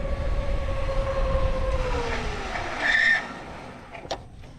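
A Biktrix Stunner Step-Over electric bike's brakes squeal as it slows, a tonal whine sliding downward with a brief sharp screech near the end over road noise.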